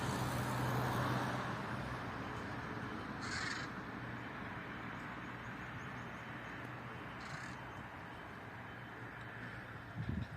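A couple of crows caw in short harsh bursts, moderately distant, over a constant outdoor rush of wind and passing traffic.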